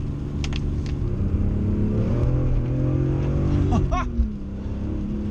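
A BMW E46 M3 engine drones loudly above 5,000 RPM, its pitch climbing and shifting through gear changes, heard from inside with steady road noise on a wet road.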